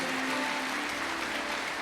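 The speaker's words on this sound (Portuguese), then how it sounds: "A igreja aplauda ao Senhor" A church congregation claps for the Lord in a continuous, even roar of applause, close and fairly loud, with a faint held tone underneath and no speech on top.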